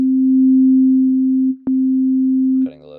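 A steady pure sine tone from a Vital software synthesizer holds at one pitch, loud and alone, with a brief dropout and click midway before it thins out and changes character near the end.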